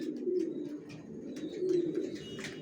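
Racing pigeons in a loft give soft, repeated throaty coos, several overlapping calls close by, with faint chirps in the background.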